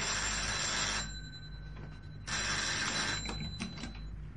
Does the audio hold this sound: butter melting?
no